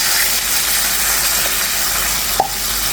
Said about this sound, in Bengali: এখানে দিয়ে দিচ্ছি গরম জল।